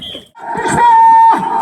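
A loud, drawn-out bellow from a bull at a ploughing competition, a steady tonal moan rising and holding before a second shorter call near the end.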